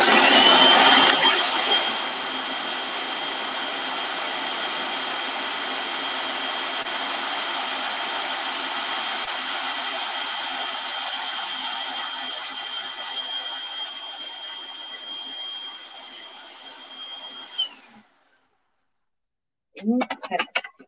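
A blender purees a wild onion goddess dressing full of fresh herbs, a loud motor roar that starts strong, holds steady, then tapers and cuts off, followed by a brief voice after a pause.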